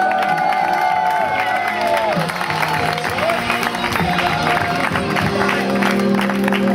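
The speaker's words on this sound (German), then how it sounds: "Team PlayStation mit einem fetten Applaus!" Audience applause and cheering fill a prize-giving ceremony at a gaming event, as a placing team is called to the stage; steady, dense clapping and crowd noise continue throughout with whoops and a voice over the top.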